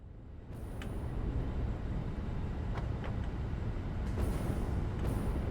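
A train ride in the Satisfactory video game gives a steady rumbling, rolling rail drone that holds for several seconds at moderate level, with faint clicks and brief higher tones over it and no speech.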